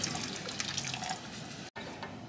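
Water pours steadily in a continuous splashing stream into a cooking pot of chicken, close by, with a brief break near the end before the flow resumes.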